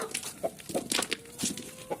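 Chickens, laying hens on a farm, cluck in short repeated bursts while being let outside, close by with no talking.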